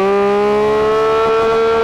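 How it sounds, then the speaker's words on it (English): A Porsche 911 GT3 RS engine revs hard in first gear, a loud, sustained high-pitched wail that climbs slightly and holds steady near the red line. "Let's have a listen to this engine."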